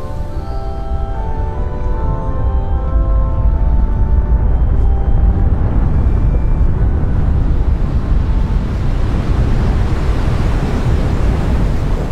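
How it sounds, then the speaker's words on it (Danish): Wind gusts by the sea with rushing surf, loud broadband roar steady throughout and no voices, faint tonal music lines underneath at the start. "Blæsvejr."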